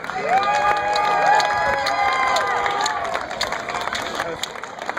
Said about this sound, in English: How about a round of applause for our junior?